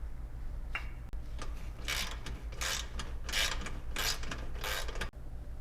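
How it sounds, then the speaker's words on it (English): A ratcheting socket wrench with a 17mm socket tightens front lift kit hardware on a Yamaha Drive golf cart, repeated close clicking bursts in quick strokes over a low steady hum, no talking. "you'll attach the rest of your front lift assembly with the supplied hardware and a 17mm socket"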